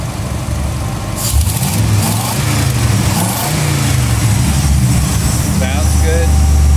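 A 1956 Studebaker Transtar 259 engine fitted with FiTech EFI revs up and rises in pitch, then settles slowly back toward a rough idle, loud and close throughout, with someone talking over it.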